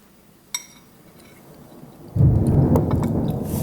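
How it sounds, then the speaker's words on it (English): Thunder from a storm outside, a low rumble that swells suddenly partway through and keeps rolling steadily to the end, after a single faint click earlier. "it's storming outside. It's going to be thundering a bit during this."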